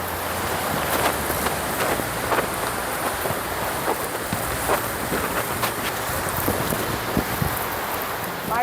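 Heavy rain pours steadily at a waterfall near Hua Hin in bad weather, a dense continuous wash of water noise with scattered louder drops and gusts, no voices.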